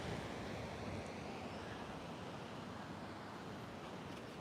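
Ocean waves roll in at an oceanfront outdoor yoga class, a continuous loud wash of surf with windy rumble and no voices.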